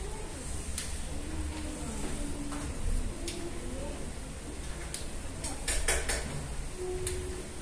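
Dishes and cutlery clink and clatter now and then over steady household background noise, with faint voices nearby.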